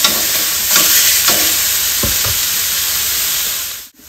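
Pork belly for lechon kawali frying in hot oil in a wok, a loud, steady, dense sizzle and crackle close up, with a few brief stirring clanks partway through, then a sudden drop near the end.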